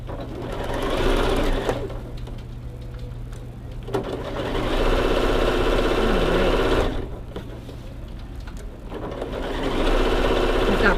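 Sewing machine stitching a holiday mini quilt pillow, running in steady bursts of close, continuous motor whir with short pauses between seams.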